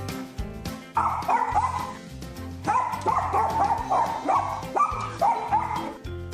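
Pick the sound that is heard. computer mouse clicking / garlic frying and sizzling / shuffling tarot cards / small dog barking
small dog barking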